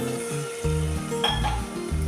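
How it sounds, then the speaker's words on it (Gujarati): Water poured into Maggi masala spices in a hot pan while cooking Maggi rice, giving a loud steady sizzle with a few metal clinks over background music. "પાણી એડ કરી દઈશું."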